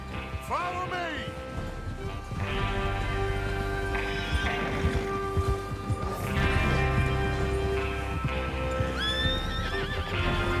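Horses in the video game Red Dead Redemption 2 gallop with a steady close clip-clop of hooves, while several loud whinnies and neighs rise above the hoofbeats and game ambience.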